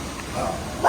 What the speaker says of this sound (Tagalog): Oh, ang daming aso.